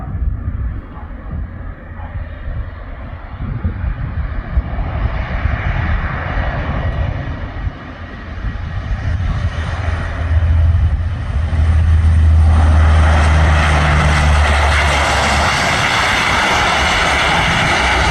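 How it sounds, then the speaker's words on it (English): A C-130 military transport aircraft landing with one engine out, its propeller engines roaring loudly and continuously while the sound swells and changes as the plane passes close by. "This C-130 landing without one of its engines."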